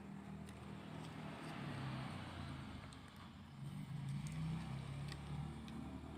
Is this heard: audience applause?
no